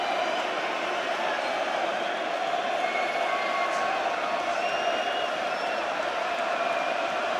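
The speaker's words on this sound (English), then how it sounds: "you can hear the reaction of the crowd. Not exactly encouraging." A large boxing arena crowd roars steadily at a Tyson Fury fight, a continuous loud wash of mingled voices, jeers and whistles that fills the hall without letup.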